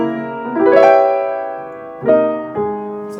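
Piano keys pressed fully down for a fuller, ringing jazz chord, one sustained chord followed by two shorter struck chords, close and clear with no voice.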